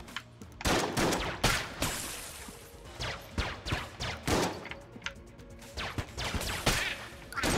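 Rapid volleys of gunfire in the bullet-hell dungeon game Enter the Gungeon, sharp cracking shots arriving in dense bursts and scattered single blasts throughout, loud and close with no talking.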